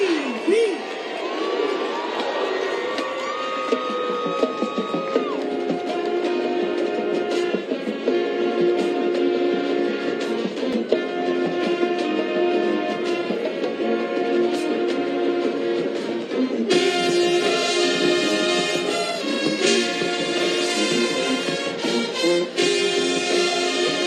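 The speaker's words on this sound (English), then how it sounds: "One of the high school bands entertaining this crowd." A high school marching band plays at football halftime at Prairie View. Full, sustained brassy music fills the stadium continuously, with the crowd audible around it.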